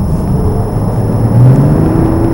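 A car engine hums low and steady, its rumble swelling slightly as it pulls away, with no voices over it.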